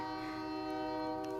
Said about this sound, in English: I apologize for the train that's coming by.